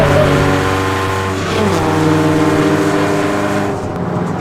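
A turbocharged Skoda Octavia vRS Bonneville special's engine roars loudly and steadily, its pitch holding strong as it pulls hard under acceleration, with a faint rising whine in the mix.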